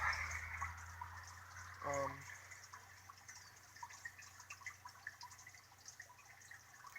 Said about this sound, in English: The overflow is still draining. You can hear the water, and you can see water coming out of the pipe.